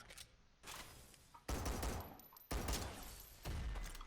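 Semi-automatic gun fire in the top-down shooter SYNTHETIK 2: four sharp, loud shots about a second apart, each with a booming tail, plus a fainter pop at the start.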